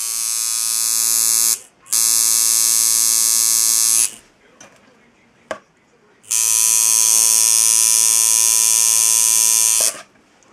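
Tattoo shader machine with 7/8 10-wrap coils on a short frame, running at 6.5 volts. It gives a loud, steady electric buzz in two long bursts, broken by a pause with soft handling noises and a click.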